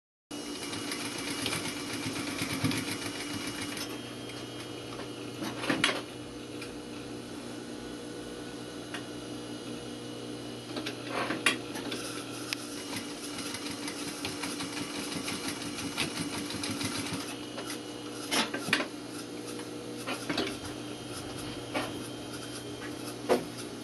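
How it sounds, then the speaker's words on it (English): Sewing machine back stitching a blazer pocket, whirring in short bursts with brief pauses and a few sharp clicks, close and fairly loud with no talking. "I'm just going to put a little back stitch in here"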